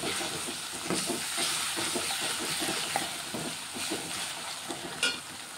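Onions fry with ginger-garlic paste in a pan for tomato rasam, a close, steady sizzle and hiss broken by the soft scrape and tap of stirring.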